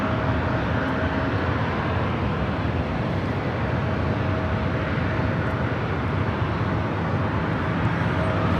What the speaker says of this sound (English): Spirit Airlines flight 469 coming in from San Jose on the A320 Neo